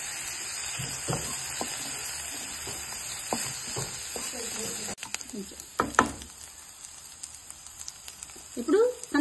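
Chopped onions and egg frying in a pan for spring onion, carrot and egg bhurji, a steady close sizzle with scattered stirring scrapes and clinks that ease off partway through.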